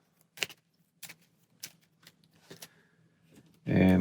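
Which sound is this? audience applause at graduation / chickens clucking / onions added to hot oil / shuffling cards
shuffling cards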